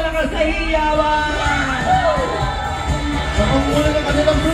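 A crowd at a civic parade in Pasig City cheers loudly and continuously as an elementary school contingent passes, with a dense roar of shouting children and whoops.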